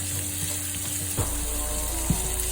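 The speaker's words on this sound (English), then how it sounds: "I love the sizzle. I love that sound." Vegetables, onions and peppers, sizzle steadily while stir-frying in a pan, a close, continuous hiss with a couple of soft knocks from stirring.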